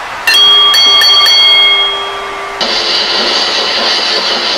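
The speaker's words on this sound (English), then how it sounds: "Ring the bell." A ring bell is struck several times in quick succession at the end of a professional wrestling tag team championship match, loud metallic clangs that ring on, followed by a roaring arena crowd.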